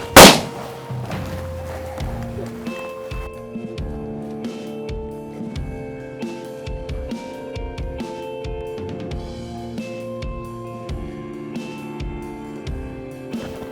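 One loud, sharp shotgun blast goes off close at the start during a duck hunt for mallards in October, then a calmer stretch follows with tonal calls and scattered taps.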